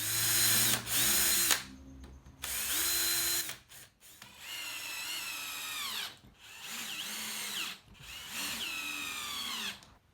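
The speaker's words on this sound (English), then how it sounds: "I pre-drilled a pilot hole for all the screws because they were close to the edges of the boards" Power drill boring pilot holes in dense Merbau decking timber, several loud whirring bursts that spin up and wind down, separated by short pauses, close by with no talking.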